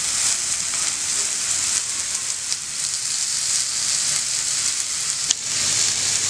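Roast sizzling in a grill pan with a few drops of oil, a dense, even hiss with occasional small pops, steady and close throughout.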